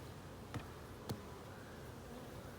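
Honey bees hum steadily around a hive frame with broken comb, a soft continuous drone close by, broken by two brief sharp taps.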